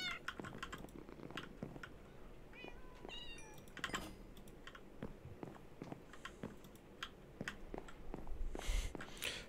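A Minecraft cat meows in a video game, with soft, repeated short mews and small clicky sounds over quiet background noise.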